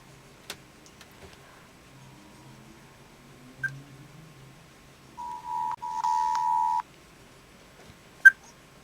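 A phone number is keyed in with a few short tones, followed by a steady tone burst of a few seconds and a sharp click or two, heard alone in a quiet room.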